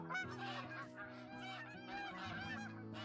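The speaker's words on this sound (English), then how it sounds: "I can already hear the geese are going crazy" Many geese honk continuously in a video game, a loud, overlapping chorus of Canada goose calls tumbling over one another without pause.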